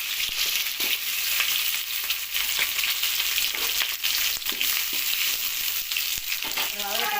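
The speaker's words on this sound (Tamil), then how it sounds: "சட்டி சுட்டதும் எண்ணெய் வச்சுட்டு கருவேப்பிலை விடணும் வெங்காயத்தை வந்து வதக்கணும்" Onions sauté with curry leaves in hot oil in a heated pan for chicken gravy, a steady, dense sizzle with occasional stirring scrapes and crackles, close and continuous.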